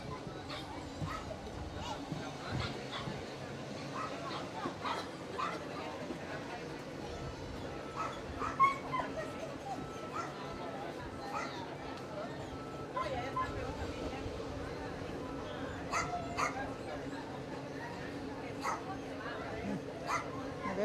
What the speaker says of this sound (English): They're very pretty dogs.